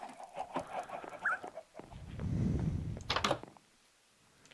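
Chickens clucking in the Minecraft video game, a few short game-style clucks in a quiet farm scene with a brief low rustle partway through.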